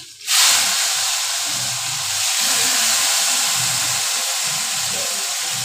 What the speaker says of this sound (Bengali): তারপর এবার আমি সবজিগুলো ছেড়ে দেবো